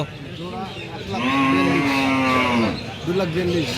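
At a busy cattle market, a cow lets out a long, loud, drawn-out moo up close, followed by shorter lowing calls, over a steady crowd murmur.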